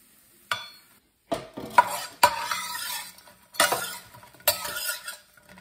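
Pieces of clam chowder ingredient browning in a frying pan, cooked in batches: bursts of stirring and sizzling with clinks of a utensil on the pan, separated by short quiet gaps, close and moderately loud with no talking.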